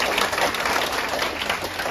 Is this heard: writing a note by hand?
no